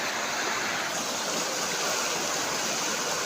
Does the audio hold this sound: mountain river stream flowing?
yes